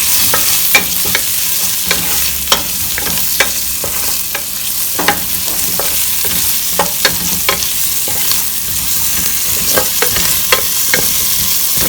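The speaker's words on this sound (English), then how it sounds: "these onions are browning on one side of the pot" Onions browning in a pot alongside bay leaves and garam masala give a steady, close sizzle, broken by frequent sharp scrapes and clicks of stirring, with no talking.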